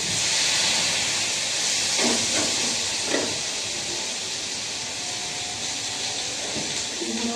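Ginger and garlic hit hot oil in a frying pan beside fried fish heads, giving a steady, loud hissing sizzle with a few brief clinks partway through and no talk.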